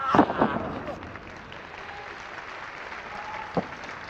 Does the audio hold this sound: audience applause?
yes